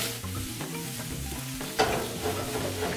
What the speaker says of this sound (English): Just gonna give it a little deglaze with some red wine vinegar